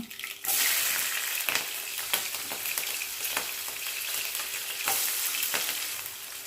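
Cumin, green chillies and onions drop into hot oil with a sudden loud burst of sizzling that settles into a steady crackling fry, punctuated by repeated stirring scrapes close by.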